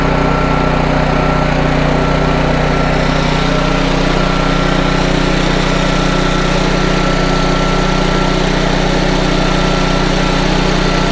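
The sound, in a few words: Honda EM650 generator engine running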